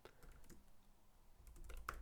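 A few sparse keystrokes on a computer keyboard, soft scattered clicks with a brighter tap near the end, close and fairly quiet over a low room hum.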